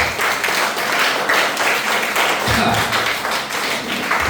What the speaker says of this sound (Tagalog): Sa malakas sa palakpak muli sa ating mga mahal.